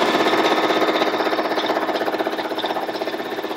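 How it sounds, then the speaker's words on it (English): Baby Lock Jazz II sewing machine running continuously while free-motion quilting a stippling pattern on a quilting frame, a loud close rapid mechanical whir with a steady needle rhythm and no voices. "So now we're going to do a little bit of sewing on the machine, some quilting, some free motion stippling,"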